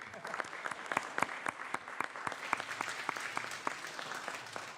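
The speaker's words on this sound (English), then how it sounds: "please give them a round warm applause again" Audience applause on a legislative floor for visiting sorority guests, a steady patter of many hands clapping through the whole stretch at moderate loudness.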